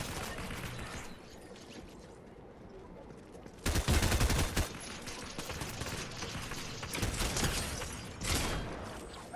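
Fortnite gunfire in a trios match, a stretch of rapid shots that breaks into a loud, sustained volley partway through, followed by further bursts at a moderate level, with no voices.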